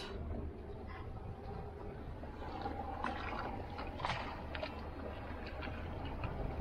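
Water washes and gurgles around a small dinghy towed on a short line behind a sailboat under engine power near Crete, making a steady, moderately close sloshing with faint trickles.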